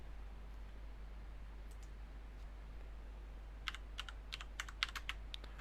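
Keystrokes tapped out on a computer keyboard while entering a Linux command at the command line, a quick irregular burst of close, crisp clicks near the end after a quiet stretch, with no talking.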